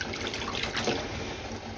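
Clear water pours steadily onto yarn during acid dyeing, a continuous close splashing and trickling stream with no talk.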